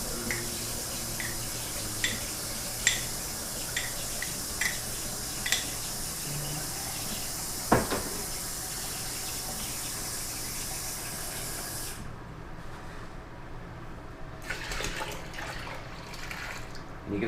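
Three gallons of water running from a tap into a large container, a steady close hiss and spray that continues for a long stretch and then cuts off, with a few small knocks along the way.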